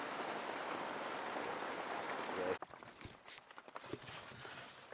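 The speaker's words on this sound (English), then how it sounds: "it started raining, unfortunately" Rain falls steadily on leaves in a jungle, a dense close hiss for a few seconds, then cuts abruptly to quieter, uneven dripping and scattered taps and rustles.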